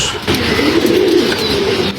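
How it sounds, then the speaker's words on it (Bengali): Fancy Sirazi pigeons coo up close, with a soft, rolling, throaty burble that rises and falls steadily for a couple of seconds. "এগুলোকে বলা হয় সিরাজি কবুতর"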